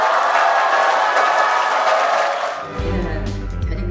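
At a franchise cosmetics association launch ceremony, an audience bursts into loud, dense applause and cheering for nearly three seconds. The clapping then drops away to quieter room sound.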